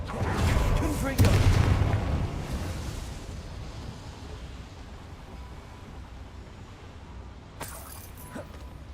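A Confringo fire spell blasts off in Hogwarts Legacy, a loud booming burst that rumbles and fades over a couple of seconds, followed by quieter ambient game sounds and a brief sharp crack near the end.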